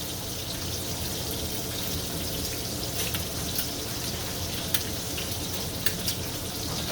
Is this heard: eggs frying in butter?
yes